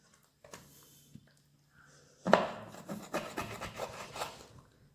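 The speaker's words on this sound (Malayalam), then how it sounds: "കണ്ടോ, ഇത്രയും ചെറിയ പീസായിട്ടാണ് ഞാൻ കട്ട് ചെയ്യുന്നത്" Knife cutting stingray into small pieces for frying, giving a brief rough rubbing and scraping that starts partway through and runs to the end, with faint earlier ticks.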